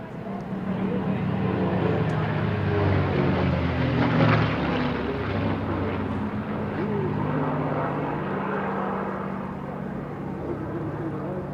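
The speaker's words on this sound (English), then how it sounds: "give an opportunity now to show off the Lancaster's mighty presence as we see this unique formation" An Avro Lancaster bomber flying in formation with fighters over the Eastbourne airshow, a deep droning propeller-engine roar swelling and fading, with voices murmuring underneath.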